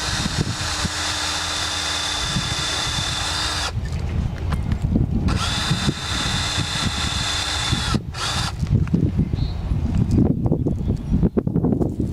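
A drill bores a tap hole into a tree trunk for a maple spile outdoors, coming in bursts of steady, close motor whine separated by short pauses, with crunching and handling noises between the runs.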